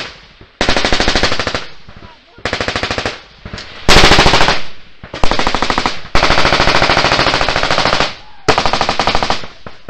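Machine guns fire in long, loud, sustained bursts during a Taliban ambush in Afghanistan, broken by brief gaps, close and harsh throughout.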